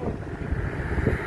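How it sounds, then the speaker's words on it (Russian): Raketa hydrofoil boat passing on the water, a broad low rumbling wash of engine and hull noise mixed with wind buffeting the microphone, brief and fairly loud. "Ракета едет."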